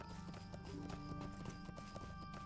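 A horse mount in Lord of the Rings Online clip-clops at a steady pace, with quiet, even hoofbeats under a constant music bed and ambient game sound.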